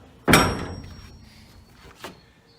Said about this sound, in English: I'm shutting the door to the container